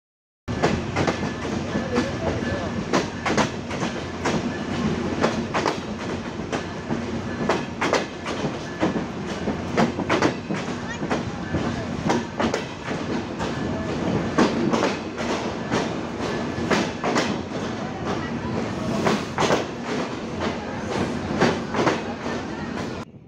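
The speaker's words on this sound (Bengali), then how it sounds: "চিত্রা এক্সপ্রেস ট্রেন 2 মিনিটের যাত্রা বিরতি শেষ করে ছেড়ে যাচ্ছে কোটচাঁদপুর রেল স্টেশন" The Chitra Express pulls out of Kotchandpur railway station after its two-minute stop, a loud, steady rumble with rapid clickety-clack of wheels over rail joints that continues close by for the whole stretch, without any voices.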